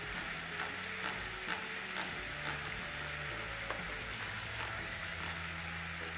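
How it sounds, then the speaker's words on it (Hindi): Onion pieces frying in a pan, a steady dense sizzle running throughout with faint stirring clicks and a low hum underneath, close and fairly quiet, no talking. "प्याज जो है इसमें मैं डालूँगा इस तरह से पीसेस में"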